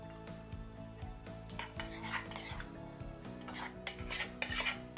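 A spoon stirs mustard seeds, dried red chillies and fenugreek seeds into wood apple pickle, giving repeated close scraping and clinking against the pot over a steady background hum, with no talking.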